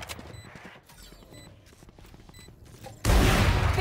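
Gunfire in the tactical shooter Valorant, with a quieter stretch of scattered game sounds and faint shots. It ends in a sudden loud burst of gunfire that fills the last second.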